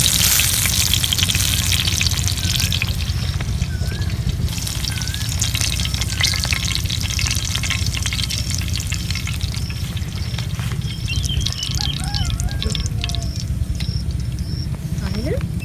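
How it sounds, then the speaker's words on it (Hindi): Chicken shashlik sticks fry in a pan with a steady, loud sizzle that runs continuously throughout, with occasional faint stirring and clatter and a voice talking over the cooking. "इसी तरह बाकी स्टिक भी फ्राई कर लेंगे हम।"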